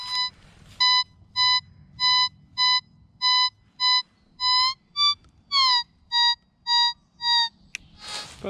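A Nexus MKII metal detector in multitone mode sounds a steady series of loud, clean electronic beeps, about a dozen evenly spaced pulses with a few shifting tones near the end, over faint outdoor background.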